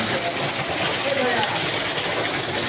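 Steady rain pours down on a road trip through Nepal's Gandaki region, a dense, even hiss that holds throughout at close range.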